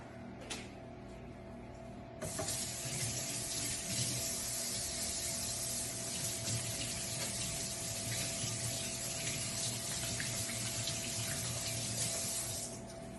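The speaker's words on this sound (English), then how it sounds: "I'm gonna wash my hands real quick" Running tap water pours steadily into a sink as hands are washed under it, starting with a brief trickle before the full stream gushes on and continues evenly, close and fairly loud, then cuts off at the end.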